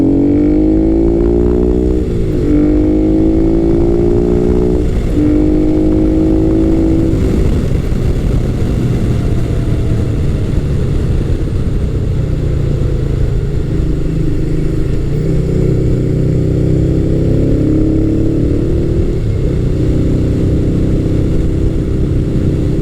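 Honda Hawk GT 650 motorcycle engine while riding: a loud, steady mid-range drone that rises and falls through gear changes and throttle shifts, running continuously for the whole stretch with no talk.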